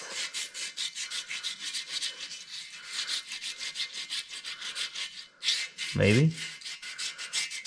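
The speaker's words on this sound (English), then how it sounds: "It's getting rid of a little rust really easy, kind of like an SOS pad will." Abrasive scrubbing of light rust off the pitted metal bumper of an old Ford, a steady rapid back-and-forth rubbing rasp, close and fairly loud, broken briefly near the end by a low thump.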